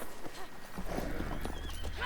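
Horse hooves clip-clop in a steady galloping rhythm in The Witcher 3, loud and close, over a continuous bed of game ambience and music.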